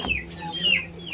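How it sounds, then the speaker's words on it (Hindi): Fancy chickens cluck in short, close calls over a brief moment, with a voice faintly in the background. "ये देखें ये भी फैंसी मुर्गियाँ हैं चिकन है।"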